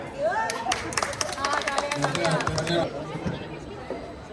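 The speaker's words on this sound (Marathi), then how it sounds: "कॉमेंटेटर साठी टाळ्या." Scattered hand claps ring out from spectators at a women's cricket final in the Aura Premier League, a burst of quick separate claps mixed with crowd chatter that fades away after about three seconds.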